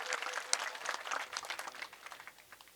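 Crowd applause at a large farmers' protest rally in Almatti, heard as dense scattered clapping that tapers off toward the end.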